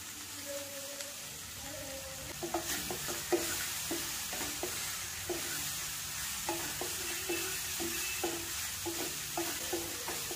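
Fried paneer is stirred into sweet corn in a hot pan: a steady sizzle under repeated clinks and scrapes of a spoon against the metal, close and rhythmic, with faint voice-like tones early on.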